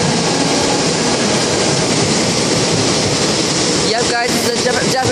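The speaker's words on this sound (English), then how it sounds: "Look at that, it's a train." Loud, continuous rumble and roar of a Japanese subway train arriving at a platform close by. A screech of brakes or wheels comes in near the end.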